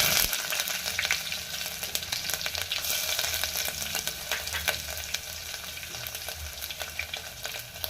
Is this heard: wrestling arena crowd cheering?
no